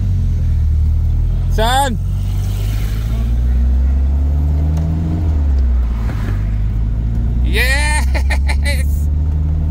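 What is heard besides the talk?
project car engine revving on first test drive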